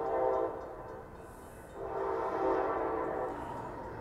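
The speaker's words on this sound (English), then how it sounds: "All right, we got an Amtrak coming over." A southbound Amtrak Capital Corridor train hauled by a Siemens SC44 Charger locomotive passes near San Leandro BART station, sounding a loud, sustained multi-tone horn in long blasts over the rumble of the train.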